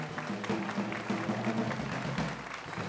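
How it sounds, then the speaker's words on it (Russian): Studio audience applauding on a Russian lotto TV broadcast after a prize win is announced, steady dense clapping from a crowd sustained at moderate volume for the whole stretch. "Аплодируем."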